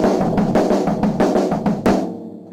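On a drum kit, two hand strokes alternate with two bass drum kicks in groups of four, a steady repeating pattern of sharp hits that rings out and decays at the end.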